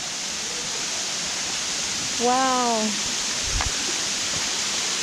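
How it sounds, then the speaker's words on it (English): Kanto Lampo waterfall in lush green Bali gives a steady, loud rush of falling water that fills the whole stretch, with one short exclaiming voice heard briefly over it. "we already hear the waterfall"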